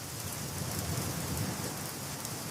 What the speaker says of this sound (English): Is it the loud rain on the roof?